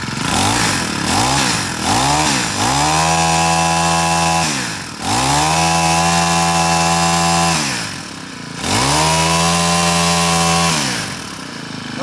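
A Honda GX25 25.6cc brush cutter engine runs loud and close, revving up and settling into a steady idle several times, with short drops and surges between the runs.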